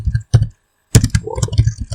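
Close, crisp clicking of keys on a computer keyboard, typed in short bursts with a brief silent gap between them.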